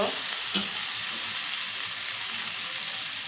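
Boiled noodles and vegetables with noodle seasoning fry steadily on a hot pan for a Maggi omelette, a loud continuous close sizzle with a brief stir near the start.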